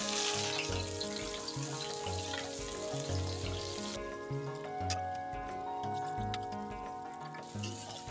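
Chili frying in a pan for a Bengali chicken and new potato curry, a steady close sizzle that runs throughout with small bursts and crackles and no talk.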